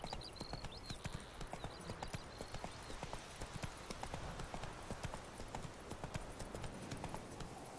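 Hooves of the horse Roach in The Witcher 3 clop in a quick, steady trotting rhythm, close and continuous, over a faint ambient game backdrop with no talk.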